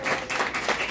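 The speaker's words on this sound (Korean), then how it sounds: "자, 박수 한번 주세요" A short burst of audience clapping at a pastors' talk event in Korea, a quick, moderately loud patter of hands lasting about a second.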